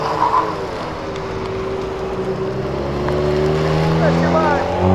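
A Nissan GT-R engine accelerating hard in seventh gear, a loud sustained rising roar with climbing pitch, with excited voices shouting over it.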